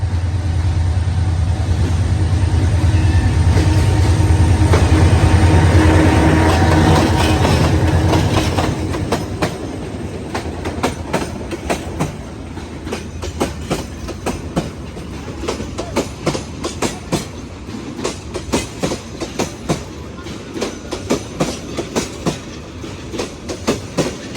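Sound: train passing through Lawachara forest

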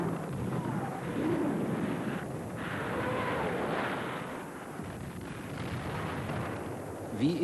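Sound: Dora 80 cm heavy artillery gun firing

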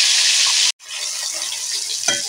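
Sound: fish head frying in hot oil in a wok

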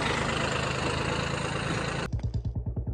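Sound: tractor engine idling

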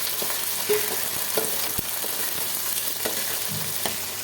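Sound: ginger and kanthari chili frying in oil for lemon pickle

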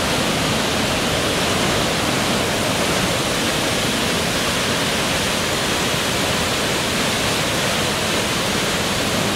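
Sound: roaring Blackwater Falls waterfall in West Virginia

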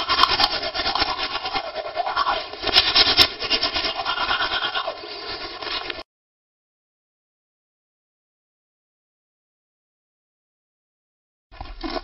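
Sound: character brushing teeth in a video game (Plan Z)

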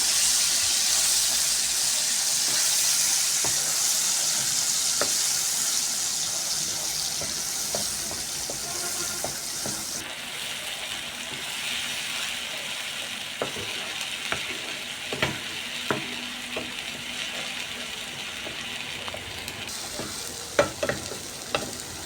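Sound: ground spice paste frying in oil

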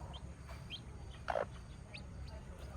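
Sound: hen clucking to teach her chicks

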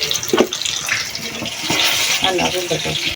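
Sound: bean (borboti) pakoras frying in oil

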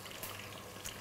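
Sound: potatoes frying in a deep fryer

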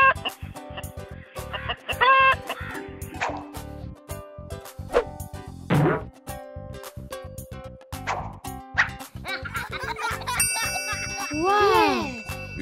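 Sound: chicken clucking

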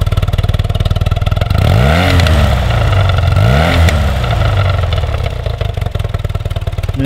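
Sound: 1982 BMW R65LS motorcycle engine running and revving

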